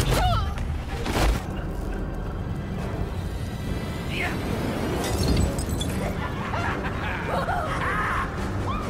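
Fireworks bursting in a city at night during a Gotham Knights action cinematic, heavy booms and crackles layered under dialogue and snickering voices, loud and continuous throughout.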